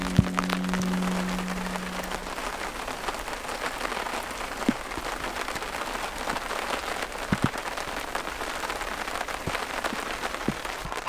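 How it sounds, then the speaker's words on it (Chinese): Rain patters steadily on a night beach campsite in Snowy River National Park, Australia, with a few louder drips standing out over the dense wash and a faint low hum at the start. "大家可以听这个滴滴答答雨声啊"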